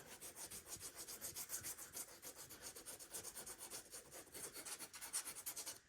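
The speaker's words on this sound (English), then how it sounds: "I'm gonna sand my transfer just a smidge." Sandpaper lightly rubbing a transfer on a rustic DIY wooden project, a close, quiet scratchy rasp repeated in quick, even back-and-forth strokes.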